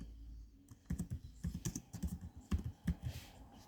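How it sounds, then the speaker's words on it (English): Fingers type on a computer keyboard in a quick, irregular run of close, crisp key clicks with no talking. "let's type this in."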